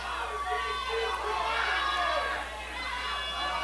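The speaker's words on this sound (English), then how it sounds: "The crowd showing their obvious dislike for the Texas Outlaws." A wrestling crowd jeers the Texas Outlaws, a continuous mid-distance roar of many voices in an arena, loud and sustained without a break.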